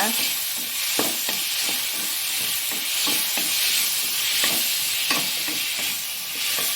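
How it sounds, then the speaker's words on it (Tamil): Four tomatoes sautéing in a pan for tomato chutney, a steady close sizzle and hiss with repeated sharp scrapes and clinks of a spatula stirring, no talking. "அதையும் நல்லா வதக்கிக்கோங்க."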